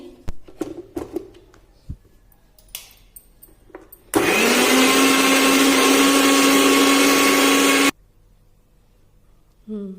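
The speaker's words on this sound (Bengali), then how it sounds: "আদাটা ব্লেন্ডারে বেল করে নিচ্ছি আমি।" A kitchen blender grinds ginger into paste in a loud, steady whir lasting about four seconds, starting and stopping abruptly, with quiet knocks and handling noises before it.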